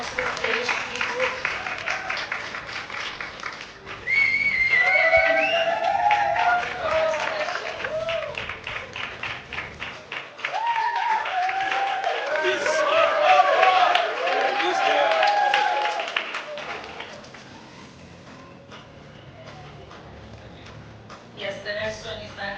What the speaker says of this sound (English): Round of applause, next way onto the stage, please.